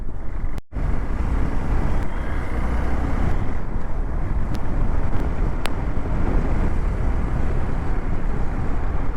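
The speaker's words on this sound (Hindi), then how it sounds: "हम इस पे अपनी मोटर बाइक चला रहे हैं" A motorbike rides along a jungle safari road near the Khajuraho temples, with heavy wind buffeting the microphone and a steady low engine rumble throughout, loud and unbroken apart from a brief dropout early on.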